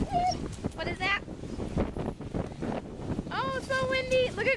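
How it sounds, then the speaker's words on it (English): Wind gusts in uneven bursts against a microphone outdoors, with soft low rumbles mixed in. Stretches of high, wavering voices, talking or excited sounds, come in at the start and again near the end. "Oh, so windy."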